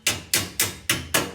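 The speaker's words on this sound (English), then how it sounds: "Take a hammer. I call this a tennis hammer." A tennis hammer shaping rusty sheet metal of a C3 Corvette floor pan, five sharp metallic taps at a steady, even rhythm, close and clear with no voices.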